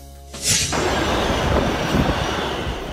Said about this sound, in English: Subway train.